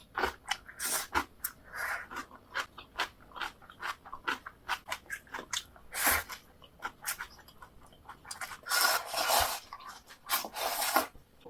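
Someone eats extra-spicy fresh geotjeori cabbage kimchi from Red Spoon, with close, crisp crunching bites repeating in an irregular rhythm and louder bursts of chewing, without talk.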